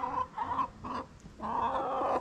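Chickens and a rooster cluck in a farmyard in short, nasal bursts with brief pauses, fairly close and steady, with no voices over them.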